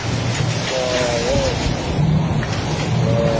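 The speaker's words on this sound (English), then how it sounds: "heavy rain accompanied by hail, strong winds, and lightning appeared in many areas in Quang Ninh" Heavy rain and stormy wind during Typhoon Wipha in Quang Ninh, Vietnam, with hail and lightning about: a dense, steady roar of downpour fills the scene, and faint voices and tonal sounds are heard under it.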